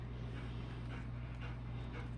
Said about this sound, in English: You can hear a panting dog in the back.